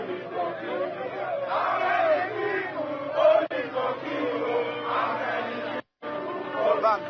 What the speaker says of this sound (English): See the crowd.